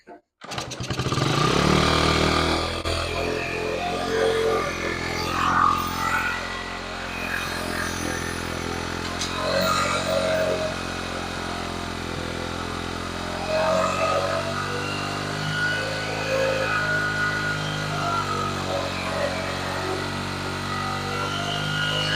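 A Honda XR75 motorcycle engine idles steadily, a little fast, with a continuous loud running drone throughout and speech over it.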